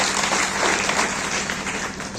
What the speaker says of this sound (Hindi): तो करते हैं तो एक ताली तो बज ही सकती है।